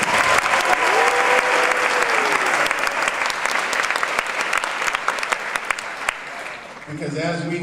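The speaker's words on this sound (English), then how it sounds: "So let's give a round of applause to our wellness committee." Dense, sustained audience applause fills a hall for a school wellness committee, steady and loud before tapering off near the end.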